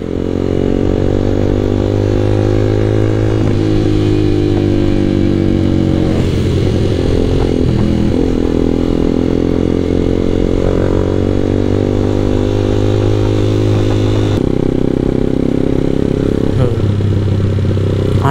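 A motorcycle engine drones loudly and continuously through a ride, its pitch shifting in a few places as the rider changes speed.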